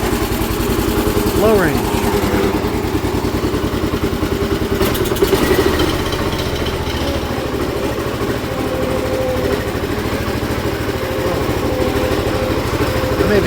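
A Ford LGT 145 garden tractor engine runs steadily and loud throughout, with a rough, even chug and some clatter while someone speaks briefly over it outdoors.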